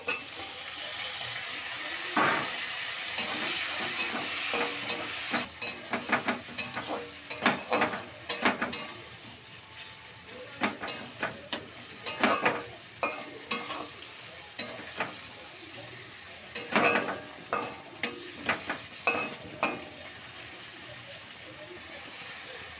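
Chopped tomatoes frying in a pan with eggplant, a soft continuous sizzle broken by repeated sharp clinks and scrapes of a spatula stirring, close and moderately quiet.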